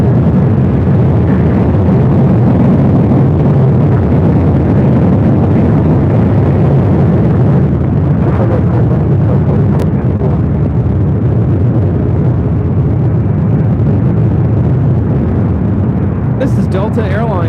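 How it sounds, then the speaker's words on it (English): A Delta Airlines Boeing 737-800 jet takes off at LAX, its engines a loud, sustained broadband roar that fills the whole stretch, with a few brief clicks near the end. "Delta Airlines 789 taking off to San Francisco on a 737-800."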